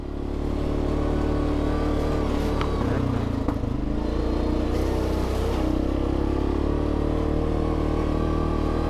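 A Yamaha Grizzly ATV rides along on a late-winter trail with a small barbecue strapped to the front, its engine a loud continuous drone with light clattering and rattling mixed in throughout.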